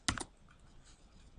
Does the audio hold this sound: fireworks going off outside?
no